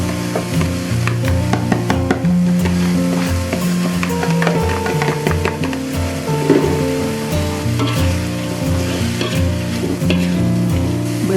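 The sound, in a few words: frying and stirring shredded tuna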